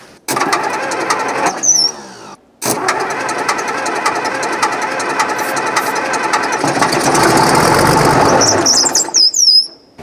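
A Case 1150 dozer diesel engine cranks with a squealing starter, stalls briefly, then catches and runs roughly on uneven cylinders, loud and close, building to a harsher roar before a final squeal as it cuts off.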